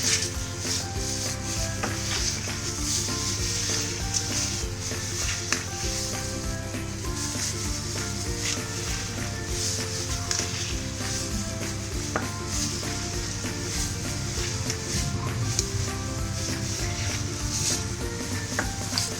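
Hands mixing minced mutton keema with spices in a bowl, a steady soft rubbing and squelching that runs unbroken for the whole stretch beneath a continuous musical backdrop, with no talking.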